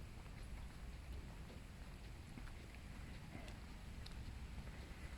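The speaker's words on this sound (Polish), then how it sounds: "Idę w deszczu, ale jest cieplutko." Steady rain patters over a broad hiss of wind and rumble on a warm 22-degree walk in Germany, continuous and even throughout, with faint scattered drip-like ticks.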